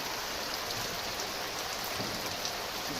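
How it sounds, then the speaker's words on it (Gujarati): A torrential, continuous downpour during prolonged monsoon rain, with a broad unbroken roar of drops drumming on surfaces, close and even throughout. "આટલી ભારે વરસાદ છે"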